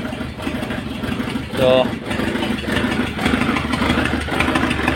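The D4EA diesel engine of a 2004 Kia Carens idles roughly and unevenly nearby with a steady low rumble, while someone speaks briefly over it.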